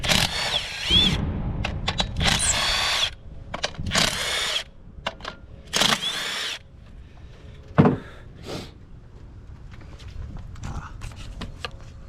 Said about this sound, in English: Taking all bolts loose here.